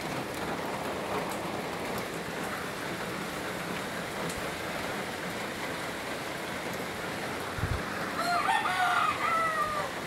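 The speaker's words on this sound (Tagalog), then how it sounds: "kasi malakas yung ulan eh" Heavy rain pours down steadily outdoors in a dense continuous hiss, with a rooster crowing faintly in the distance near the end.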